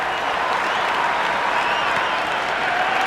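A cricket crowd at a tense Sydney Sixers versus Melbourne Stars match sends up a steady, dense roar of cheering and applause, loud and continuous throughout with no break.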